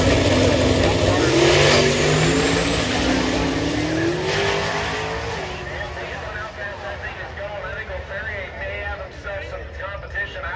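Mazda RX-7 drag car with a big LS V8 launching down the strip, the engine roaring up through the revs loud and close, then receding into a distant drone with the crowd murmuring around it.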